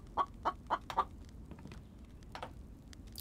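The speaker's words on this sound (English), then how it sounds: "I hear you, Mr. Chicken." A chicken in the survival video game The Infected clucks in a quick run of four short, fairly close calls, followed by a few fainter scattered clucks against a quiet background.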